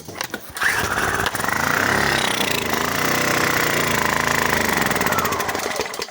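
An inverter generator with a freshly cleaned carburetor is pull-started: a couple of cranking bursts, then the small engine catches and runs loud and buzzing close by, holding steady before beginning to falter.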